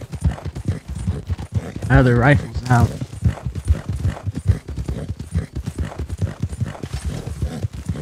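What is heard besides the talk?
horse hooves galloping in video game Red Dead Online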